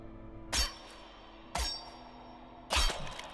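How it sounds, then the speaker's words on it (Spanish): Bell clanging in the video game Röki, three sharp metallic strikes spaced about a second apart, each ringing briefly over a quiet background hum. "Lo siento, campana, ya no podrás repicar."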